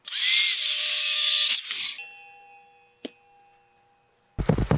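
A power saw cuts through a wooden board at a 30-degree angle, a loud close whining buzz lasting about two seconds before the blade spins down, followed by a sharp knock and a brief burst of noise at the end.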